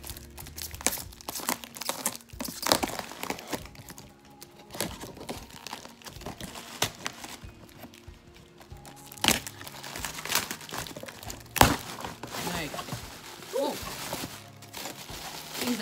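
A taped package is cut open with a small knife, producing loud crinkling and tearing of tape and packaging material in irregular bursts with occasional sharp cracks, while someone talks throughout.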